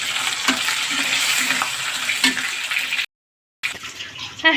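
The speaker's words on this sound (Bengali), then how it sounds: "পেঁয়াজ কাঁচামরিচ সুন্দরভাবে ভেজে নিচ্ছি" Onion, green chili and ginger-garlic paste sizzle steadily in hot oil while being stirred with scraping strokes, loud and close, broken by a brief silence before the frying resumes.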